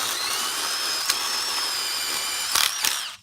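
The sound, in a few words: drill boring a hole in concrete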